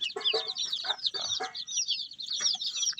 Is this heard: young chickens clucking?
yes